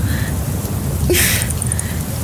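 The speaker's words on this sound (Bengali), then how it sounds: "কি বৃষ্টি, কি বৃষ্টি! দুর্যোগ, আকাশ ভেঙে পড়েছে মনে হচ্ছে।" Heavy rain pours steadily as an audio drama effect, a dense hiss that swells briefly with a sharp thunder crack midway, with no voices over it.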